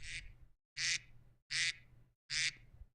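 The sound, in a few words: duck quack sound effect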